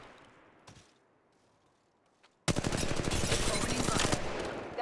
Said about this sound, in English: Taking fire. Firing.